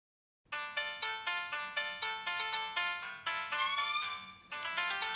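A mobile phone ringtone plays for an unanswered call: a repeating electronic melody in short, even bursts that keeps going without a break, fairly quiet, with no voices.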